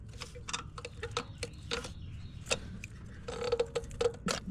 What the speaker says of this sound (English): you take this nut off to remove this whole bracket